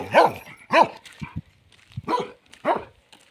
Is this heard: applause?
no